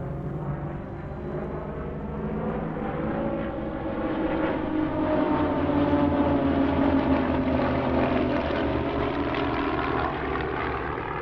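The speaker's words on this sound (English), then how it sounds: "Time for the Raven display team, who provided a typically energetic and varied routine with their 5 RV-8s" Several propeller-driven RV-8 aerobatic airplanes of a five-ship display team perform at an airshow, producing a continuous loud engine drone that gradually swells, with shifting pitch as the aircraft pass overhead.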